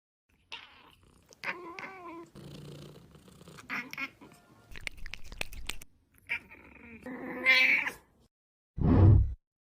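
Several cat meows of varied pitch, with a brief purr-like rumble in between, are heard close up, ending in one louder, drawn-out meow.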